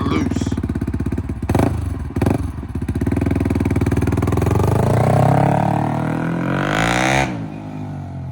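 Close, loud idle of a Yamaha WR125R with silencer fitted, a few sharp pops early on, then the engine revs up and drops back near the end.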